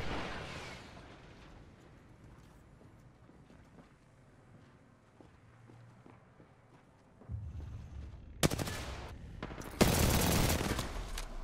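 Gunfire in the video game Apex Legends: a quiet stretch of faint movement and low rumble, then loud, close bursts of rapid shots crack out near the end, with a heavy volley closing the moment.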